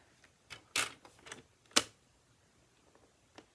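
A paper trimmer cuts mossy meadow cardstock: a few soft, close clicks and sliding snaps in a quiet room, with two sharper cutting strokes standing out among lighter taps.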